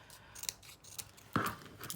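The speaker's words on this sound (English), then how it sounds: "it just needs to be hand trimmed with the scissors" Scissors hand-trimming paper for a card, a few faint snips with one sharper, closer cut near the end, no talk.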